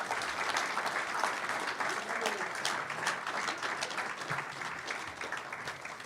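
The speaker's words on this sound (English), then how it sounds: "we certainly want to give you a round of applause" Sustained round of applause from a banquet audience at a stock car driver development program event, steady dense clapping throughout with faint voices mixed in.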